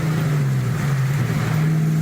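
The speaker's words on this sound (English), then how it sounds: "It sounds like it's got exhaust pods." A car engine with aftermarket exhaust pods or headers held at a steady raised rev, a loud droning hum close by with no talk.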